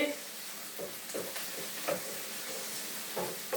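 A tempering of spices fries in a pan with salt added, for a curry-chilli and potato curry, giving a soft, steady sizzle with occasional stirring scrapes.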